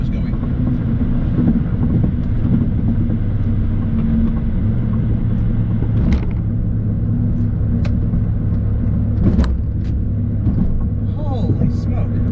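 2006 MINI Cooper S JCW GP on the move, a continuous low road and engine rumble heard from inside the car, with a few brief thumps.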